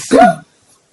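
A single short, sharp sneeze close to the listener, a quick burst that cuts off abruptly and is followed by near silence.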